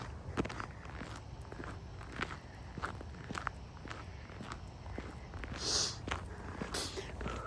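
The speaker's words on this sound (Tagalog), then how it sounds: "Naglalakad ako papunta ako sa bus stop." Footsteps crunch steadily along a snowy winter sidewalk in Montreal toward a bus stop, an even walking rhythm that stays close and moderately loud over faint outdoor background noise.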